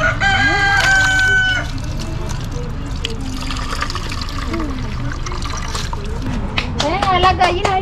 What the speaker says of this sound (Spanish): Ven, las gallinas, ahí vienen las gallinas.